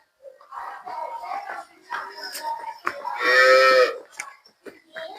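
A cow gives a loud, drawn-out moo close by, with a person talking before and after it.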